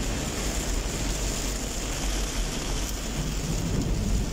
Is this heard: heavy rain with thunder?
yes